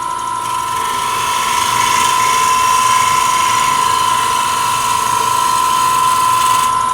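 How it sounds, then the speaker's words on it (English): A wood lathe spins a poplar bowl blank with a steady, loud mechanical whir and a faint rhythmic vibration running throughout, with no voices. "you hear a slight vibration, and that's the outer roundness that this piece of poplar has developed"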